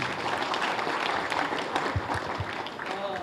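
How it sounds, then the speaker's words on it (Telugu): Audience applause in a theatre after a playlet performance in Khammam, a steady wash of many hands clapping at middling distance, with voices talking underneath. "తులసి కృష్ణ గారికి ఒకసారి మీ చప్పట్లు"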